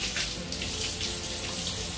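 Warm water sprays steadily from a Pet Wand Pro shower attachment during a dog bath, a close, continuous hissing rush with slight fluctuations and no talking.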